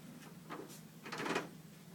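A door handle rattles as someone tries a door locked from the outside, with two short clunks and a jiggle close by, fairly faint, no talk.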